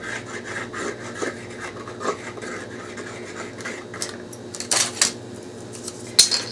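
Close, soft rubbing and scraping as glue is spread across wooden boards for a doghouse, a repeated smearing texture with a few sharper clicks and taps near the end and no talking.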